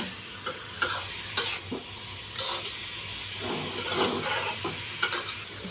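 Grated carrots fry in ghee for carrot halwa: a steady sizzling hiss runs throughout, broken by sharp scraping clicks as the pan is stirred, close and moderately loud, with no talk.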